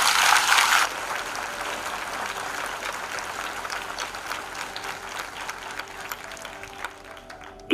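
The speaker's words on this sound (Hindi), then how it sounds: "आइए यीशु के लिए जोरदार ताली बजाएं" Loud applause from a church congregation honoring Jesus, a dense burst of clapping at the start that settles into steady, lighter clapping through the rest.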